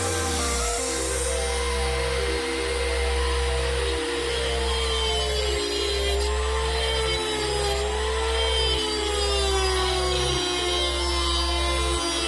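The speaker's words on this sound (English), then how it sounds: "the Dremel." Dremel rotary tool grinding steadily on a bent metal part from a 2005 Ford F-150, a continuous high whine that dips briefly in short regular pulses as it works, loud and close, no talking.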